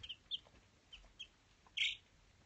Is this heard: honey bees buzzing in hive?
no